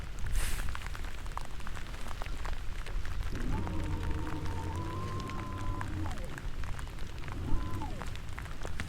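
Steady rain patters on water and a kayak during a bass fishing outing, a constant soft hiss throughout, with a faint tonal whine from a trolling motor partway through.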